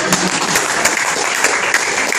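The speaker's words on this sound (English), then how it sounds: "Why don't I get a clap for it?" An audience at a Toastmasters speech contest claps in a loud, dense burst of applause that fills the room steadily from start to finish.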